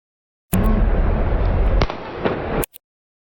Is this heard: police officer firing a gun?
yes